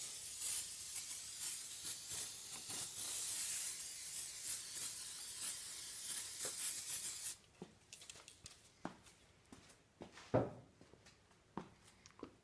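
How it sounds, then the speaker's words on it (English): Brake cleaner sprayed onto the engine parts, belt area and pulley of a Dodge Neon during a power steering pump replacement: a loud, steady aerosol hiss for about seven seconds, then quieter scattered rubs and taps. "So just brake clean everything off, especially where the belt rods and the pulley and everything."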